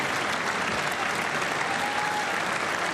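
Sustained applause from a large audience fills the chamber at the State of the Union address, a dense, steady wash of clapping without pause.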